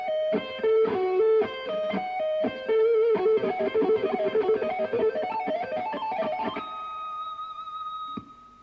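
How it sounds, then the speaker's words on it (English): Electric guitar with a distorted tone runs a rapid diminished arpeggio lick, the notes tumbling in quick succession before settling on a sustained final note that rings out alone. "It's a diminished arpeggio, and it goes like this"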